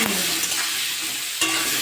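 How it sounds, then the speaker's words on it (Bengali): Potato pieces frying in oil with turmeric and salt give off a dense, close hiss, with a ladle scraping at the start and again near the end of this short burst. "ভেজে নেব আলুগুলো সব ভাজা হয়ে গেছে"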